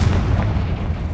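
A Confringo fire spell bursts in Hogwarts Legacy, a loud, sustained low rumbling blast that fills the whole short moment without pause.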